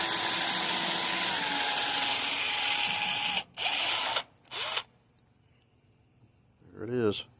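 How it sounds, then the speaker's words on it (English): Power drill boring through a part during a retro sleeper PC build, a loud continuous whine that stops, then two short bursts follow, with a brief voice near the end. "Look at the drill."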